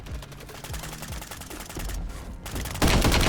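Dense, rapid automatic gunfire in Call of Duty: Warzone, coming from above, with bursts of cracking shots layered together and growing louder and harsher toward the end.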